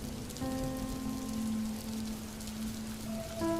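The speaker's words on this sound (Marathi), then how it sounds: "तापलेली जमीन शांत करणारा पाऊस." Rain patters in a steady hiss on the hot ground while sustained melodic tones hold and shift over it, with no voices.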